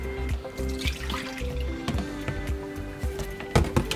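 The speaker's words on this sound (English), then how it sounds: "And we'll pour this into the sink." Water tipped from a basin into a sink, splashing and trickling with scattered drips and clinks over a steady background during perineal care in a healthcare setting.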